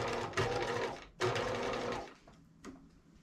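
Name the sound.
sewing machine backstitching a capelet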